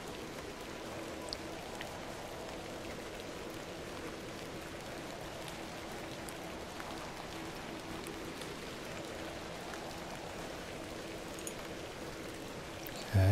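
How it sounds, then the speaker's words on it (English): Steady rain falling in an adventure video game, a soft even hiss of drops spread across the whole stretch, faint and unbroken with no voices. "A little rain is no bother."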